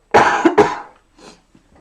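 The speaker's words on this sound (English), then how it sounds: "Apologise for the coughing, it is not great." Two loud, harsh coughs in quick succession, close by, followed by a couple of softer, smaller coughs trailing off.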